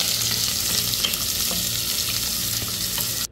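Onion and curry leaves sauté in hot oil in a loud, dense, unbroken sizzle with faint stirring, cutting off abruptly at the end. No one speaks.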